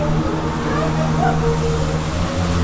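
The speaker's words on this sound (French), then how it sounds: "C'est un moteur là." A steady engine drone from a flying chairs ride at Parc Astérix amusement park hums throughout at constant loudness, with voices talking faintly over the noise.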